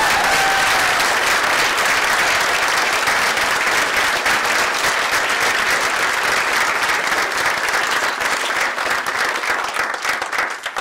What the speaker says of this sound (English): please give a huge round of applause to one of our stars, John Bechtel.